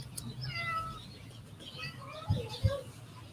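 Soft, high chirpy cat meows near the start, followed by two short low thumps, with faint voices in the background.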